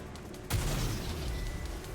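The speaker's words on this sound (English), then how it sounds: "The explosions aren't stable." A homemade explosive goes off in NIKKE with a sudden sharp blast, followed by a lingering rumble and crackle that fades slowly. Quieter background noise comes before the blast.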